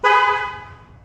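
One short, close horn chirp from a 2016 Cadillac XLR sounds as the car locks by key fob, fading quickly to quiet.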